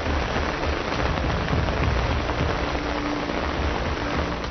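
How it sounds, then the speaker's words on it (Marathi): Heavy, cloudburst-like monsoon rain pours down in Washim, Vidarbha, Maharashtra. The downpour is a dense, steady roar of drops drumming on surfaces, loud and unbroken, with no voices. "विदर्भातल्या वाशिममध्येही काही तालुक्यात ढगफुटी सदृश पाऊस कोसळला"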